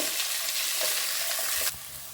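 Chopped small and large onions sauté in a pan with a steady, bright sizzle, and stirring scrapes now and then. The frying drops to a quieter hiss near the end, with no talking.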